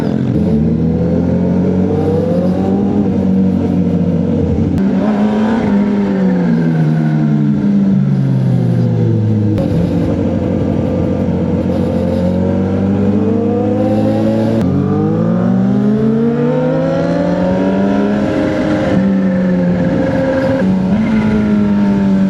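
A vehicle engine in sports mode, throttle held and released in repeated rising and falling revs, loud and close, with several long pulls and no talking.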